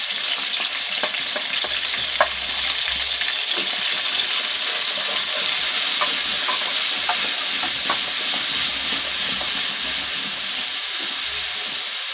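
Fish karahi with salt, red chilli and turmeric fries loudly in a pan, a continuous close sizzle and hiss with light stirring clinks and no talking.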